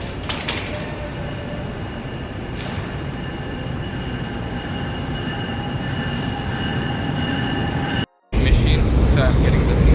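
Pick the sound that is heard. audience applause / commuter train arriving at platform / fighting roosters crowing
commuter train arriving at platform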